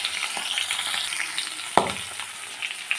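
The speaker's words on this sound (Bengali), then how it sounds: "এই যে আমি সবগুলো মাছ ভেজে নেব" Turmeric-and-salt-rubbed fish fry in oil in a wok, a close, steady crackling sizzle with one sharp utensil tap midway.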